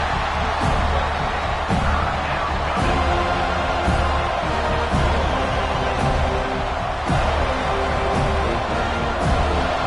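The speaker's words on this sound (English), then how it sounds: "this crowd is fired up. Listen to this noise here." Football stadium crowd roaring steadily throughout a college football game, a dense continuous wash of cheering and noise with occasional louder swells and thumps, no clear talk over it.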